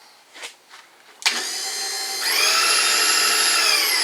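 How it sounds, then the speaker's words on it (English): A milling machine spins up its cutter: a couple of soft knocks, then a steady high motor whine that steps up louder and stays level, close and continuous with no talking. "This machine spins a sharp cutter, and you lock your workpiece into the vise"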